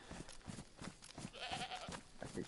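A goat bleats once in the DayZ Livonia video game, a wavering mid-length cry heard fairly faintly amid quiet ambient noise.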